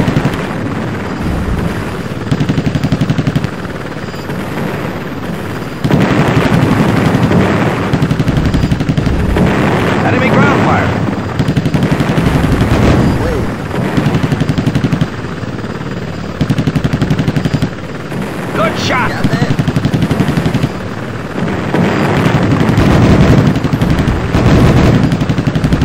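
Rapid chain gun bursts from an attack helicopter in the 1995 Apache Longbow combat flight game, loud and close, repeating in bursts over a steady rotor and engine drone with distant explosions.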